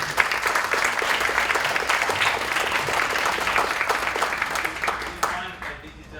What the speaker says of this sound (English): please give a round of applause for this